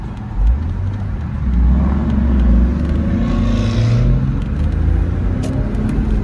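A 2002 Porsche Boxster with a five-speed manual gives a deep throaty engine rumble close by, swelling as it revs and holding steady for several seconds.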